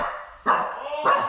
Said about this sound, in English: Oh, there's a killer dog.